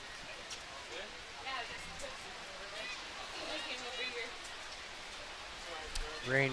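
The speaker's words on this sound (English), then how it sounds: "Rain pouring down here again." Heavy rain pours steadily onto a rugby pitch during a Canada versus England match, a constant hiss of drops at moderate level with faint crowd and commentary murmur underneath.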